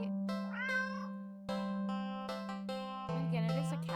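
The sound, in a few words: black cat meowing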